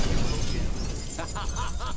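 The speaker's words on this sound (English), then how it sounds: "And yet Gonta breaks every glass." Glass shattering in The Witcher 3: Hearts of Stone video game, a loud crashing burst with tinkling shards trailing off over about two seconds, with a few brief vocal sounds near the end.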